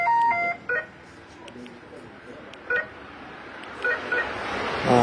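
Electronic tones from an added car security system on a Chevrolet Cobalt, a few short beeps and chirps at moderate volume, separated by quiet gaps.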